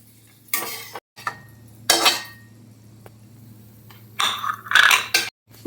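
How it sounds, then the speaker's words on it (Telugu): Dry fruits and raisins frying together in a pan for jaggery rava laddu, stirred in several short scraping bursts of spoon on metal, with quiet gaps and a low steady hum between them; no sizzle stands out. "డ్రై ఫ్రూట్స్ వేసుకుందాం కిస్మిస్ వేసుకుందాం మూడు కలిపి వేయించుకుందాం"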